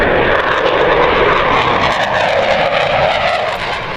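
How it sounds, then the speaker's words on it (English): An F-18 Super Hornet fighter jet flying over Erie: a loud, roaring engine rush, close and powerful, sustained for several seconds before beginning to fade slightly at the end. "That was a local Navy pilot making a stop in Erie in an F-18 Super Hornet fighter jet."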